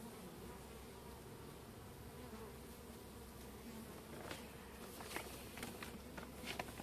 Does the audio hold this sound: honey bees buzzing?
yes